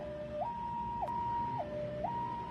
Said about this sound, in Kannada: ಆಂಬುಲೆನ್ಸ್ ಅನ್ನು ತಡೀತಾ ಇದ್ದಾರೆ, ಸೈರನ್ ಕೇಳಿಸ್ತಾ ಇದೆ